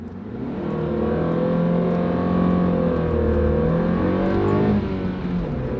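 A Nissan Sentra S pulls away in first gear, its engine note climbing steadily and droning loudly for several seconds before easing off slightly near the end, heard from inside the car with no talk.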